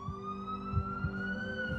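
An emergency siren wails in a steady rising tone with strong harmonics, fairly loud and alone, with a low rumble of traffic underneath.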